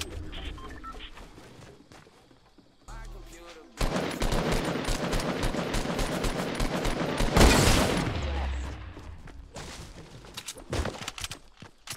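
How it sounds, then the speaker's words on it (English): Video game gunfire in Fortnite rattles out in dense rapid bursts, loudest in the middle, then trails into a few scattered shots. "Who's shooting me? Stop shooting me."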